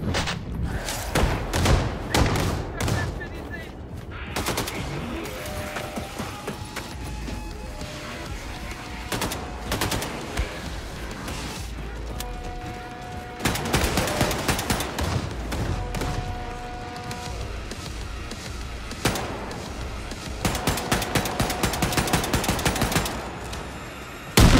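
Rapid automatic weapon fire in Wolfenstein 2 comes in dense, loud bursts with heavy thumps, separated by pauses where tonal game sounds and music carry on.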